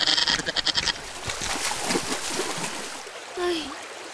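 In a cartoon scene, goats being led across a stream give a quick burst of wavering bleats, followed by a wash of splashing water and a faint voice.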